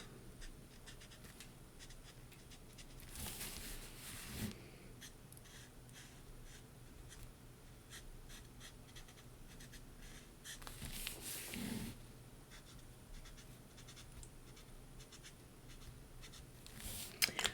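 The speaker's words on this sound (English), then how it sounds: "Now for the lightest color, the Y13, I'm just going to color the tops of all my coins." Alcohol marker, the lightest Y13 yellow, colouring the tops of small drawn coins on paper: soft, close scratchy strokes in short bursts, with a quiet steady room hum underneath.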